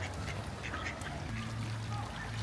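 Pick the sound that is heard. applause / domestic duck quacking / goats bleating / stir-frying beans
domestic duck quacking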